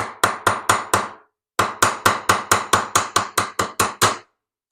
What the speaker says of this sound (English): a soft mallet,